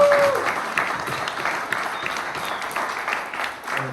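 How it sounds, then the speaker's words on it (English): An audience at a tiki cocktail event claps warmly and continuously for Jeff, a dense, moderately loud round of applause with no talking over it. "So how about a nice round of applause for Jeff?"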